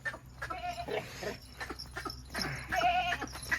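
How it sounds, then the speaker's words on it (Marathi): A male goat bleats twice nearby, wavering nasal cries separated by a short gap, with faint outdoor background noise. "बघा कसा आहे बोकड तुम्हाला"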